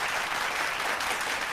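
Steady applause fills a podcast studio, a continuous wash of clapping at moderate volume that runs the full length without a break, with no talk over it.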